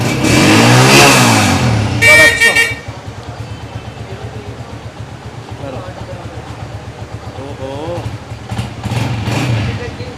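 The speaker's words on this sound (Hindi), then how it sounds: "कड़क साउंड, दबंग साउंड होंडा 125 का" A Honda CG125 motorcycle engine revs hard at first, then settles into a steady rumbling idle with people talking over it and a brief rev near the end.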